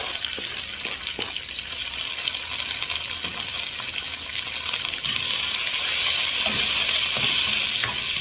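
Tomatoes sauté with garlic and onion in a pan, making a steady, loud, close sizzle with faint stirring scrapes and no talking.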